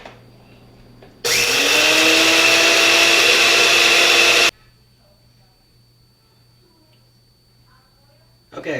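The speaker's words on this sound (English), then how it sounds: "we have our toasted coriander and cumin seeds. I'm just going to grind that up" Toasted coriander and cumin seeds whir in an electric grinder, a loud, steady burst lasting about three seconds before cutting off, with a quiet room before and after.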